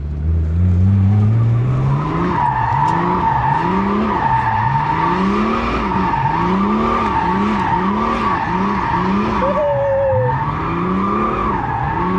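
A 400 HP BMW drift car skids with loud, continuous tire squeal and a wailing engine that rises and falls in rhythmic sweeps as it slides, close and dominant, with no talking.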